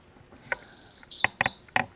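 A small bird near its nest gives a thin, high continuous trill broken by a few sharp chirps, fairly close over faint outdoor background.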